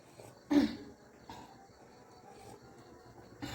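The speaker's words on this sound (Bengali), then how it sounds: "সন্ধ্যাবেলায় প্রতিদিনের মতো আমার কাশি উঠে গেছে" A person with a recurring evening cough lets out a few short, faint coughs, spaced apart, in a quiet indoor room.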